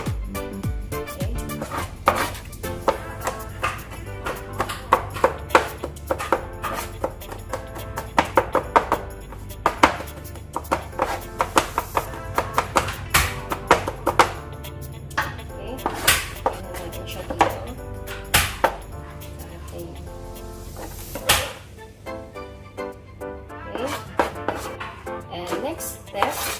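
A knife slices garlic finely on a cutting board in quick, uneven runs of sharp taps. The taps are close and fairly soft, with now and then a clatter of utensils.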